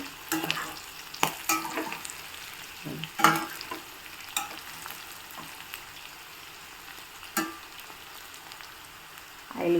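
Bitter gourd (kakarakaya) slices fry in oil in a pan while a spatula stirs them, soft sizzling broken by irregular scraping clatters, close up, with no talk.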